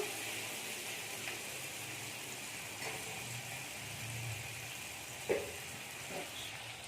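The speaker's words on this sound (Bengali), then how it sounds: "চলুন বন্ধুরা একটু হালকা করে ভাজা দিয়ে নিই" Fish frying lightly in a pan makes a soft, steady sizzle at low volume, broken by a few faint clicks and knocks of handling.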